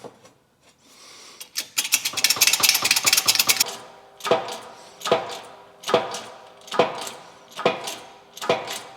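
A suspension bushing is pressed into place with a press on an AWD Honda Civic FK8 Type R, giving a dense burst of creaking, clattering strain followed by six evenly spaced sharp knocking strokes, close and loud, with no talk.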